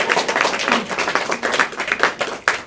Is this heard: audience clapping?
yes